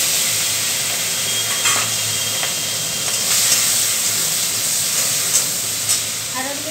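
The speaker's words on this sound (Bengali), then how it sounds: "চিংড়ি মাছের মাথাটাকে নুন হলুদ দিয়ে মেখে রেখেছি। তো এটা এখন কড়াই দিয়ে দেবো" Prawn heads coated in salt and turmeric sizzle in hot oil in a wok. A loud, even hiss runs throughout, broken by scattered light crackles and pops.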